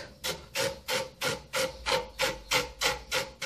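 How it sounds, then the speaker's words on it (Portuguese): Sandpaper rubbed along the cut edge of a cup made from a plastic bleach bottle, giving a close, steady rasping scrape that repeats in even strokes about three times per second. "agora para fazer o acabamento aqui, ó, na beiradinha, eu vou passar a lixa para ficar um acabamento perfeito"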